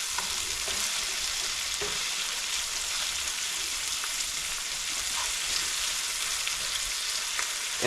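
Potatoes frying in a pan for homemade German-style mashed potatoes, a steady, dense sizzle running the full length with occasional faint stirring scrapes and no talking.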